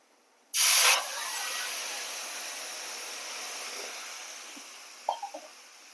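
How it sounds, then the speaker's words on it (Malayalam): Water sprinkled onto green chillies in a hot pan bursts into a loud hiss that fades to a long, steady steaming sizzle, with a few small clinks near the end. "ഇതിൻ്റെ കൂടെ കുറച്ച് വെള്ളം തെളിച്ചിട്ട് വെക്കാം"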